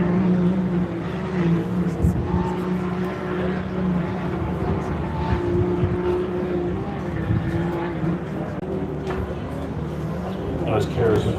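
Race car engines roar steadily through a Loveday 400 heat, a dense continuous drone of several motors at a distance, with a commentator talking over it.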